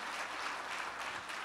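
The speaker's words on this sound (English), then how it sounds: "Round of applause" Audience clapping for a guest speaker at a business talk, a steady, fairly faint patter of applause with no voices over it.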